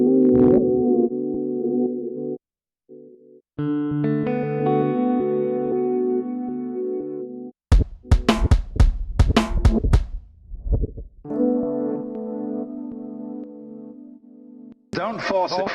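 Folktek Alter Y effects pedal set to its longest delay at full wet, sustained tones and plucked bursts smeared into long echoing repeats, a dense rhythmic stutter midway and then ringing held notes, loud and close with no talking.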